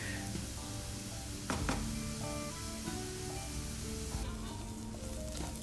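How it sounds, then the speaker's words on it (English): Chicken curry base sautéing in a pan over medium to medium-high heat, a steady, close, continuous sizzle with faint clinks of a utensil stirring, and no talking. "And so this is going to saute."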